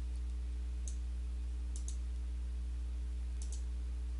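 Faint, crisp computer mouse clicks land in quick pairs, three times, while navigating R Commander menus over a constant low electrical hum.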